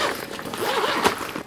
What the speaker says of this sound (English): And right here on the top we do have 2 zippers, so let's open up.